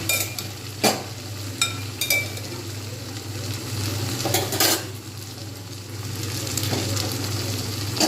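Mashed eggplant is stirred in a hot pan with softened tomato, a continuous low sizzle broken by sharp clatters of a utensil striking the pan, under a steady low hum, with no talking.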